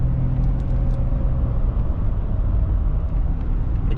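A car with newly repaired spark plugs drives along, heard from inside as a steady low engine and road rumble with a smooth whir, constant and fairly loud, with no talk.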